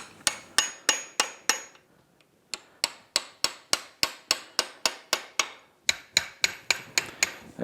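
Sharp metallic taps ring out in rapid steady series, about twenty close blows with a brief pause, as tabs on locking washers of a Yamaha Raptor 700R ATV clutch are bent up with a hammer and punch.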